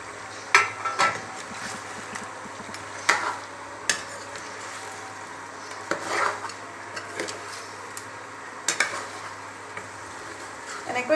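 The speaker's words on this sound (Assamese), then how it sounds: "উতলাই লোৱা নহৰুখিনি আৰু পিঁয়াজখিনি দি পেলাই অলপ ফ্ৰাই কৰি লওঁ" Onion and boiled garlic fry with chicken in a pan for an Assamese chicken curry; a soft sizzle runs underneath while a utensil stirs and scrapes against the pan in irregular clanks every second or two.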